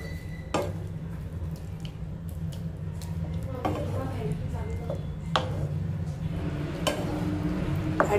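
Soft stirring and scraping of Bhutanese ema datshi, a chili and cheese dish, in a pan, with occasional utensil knocks and a faint sizzle, heard under a continuous voice.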